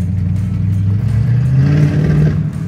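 A rebuilt race car engine revs up loudly and close, its pitch climbing steadily before easing off at the end.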